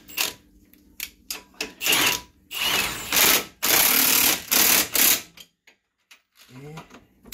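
Power impact gun tightening bolts on Ford Escape shock absorbers, with loud bursts of rattling hammering separated by short pauses, close by in a garage, with someone speaking in between.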